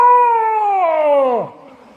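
Outdoors on a forest hike, a cat gives one long, loud, drawn-out meow that slides downward in pitch and ends in a drop, with nothing else heard.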